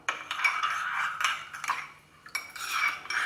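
A spoon stirs a mixture of sugar, water and dry yeast in a bowl, giving scraping clinks in uneven bursts with one short pause partway through.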